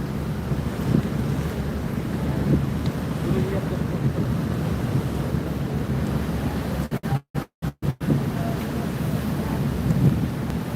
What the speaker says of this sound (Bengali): সামনে দেখতে পাচ্ছেন মিরাজ এক লঞ্চ আসছে